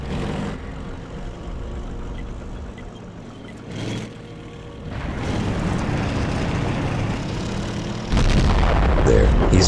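Tank cannon fire in World of Tanks, an ISU and a Jagdpanther exchanging shots on the Ensk map: a few heavy booms over a constant engine rumble, louder toward the end, with someone narrating throughout.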